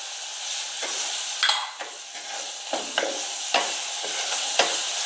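Spices with curry powder and salt fry and sizzle in a pan while being stirred, a steady hiss broken by repeated scraping strokes of the stirring utensil, close and clear.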